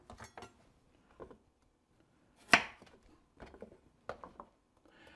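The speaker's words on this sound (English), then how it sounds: "I'm going to get the carrots and cut the ends off of them" Kitchen knife slices the ends off fresh carrots on a cutting board, a handful of sparse, crisp chops with one louder cut in the middle, heard close up with no talking.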